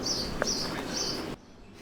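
A bird at a harbour in Mykonos gives three short, high whistles in quick succession, fairly clear against soft background ambience, before the sound cuts off abruptly.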